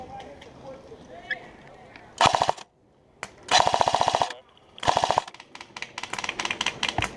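Paintball guns firing at an outdoor paintball field, several sharp rapid bursts of popping shots separated by pauses, loud and close, with people talking in between.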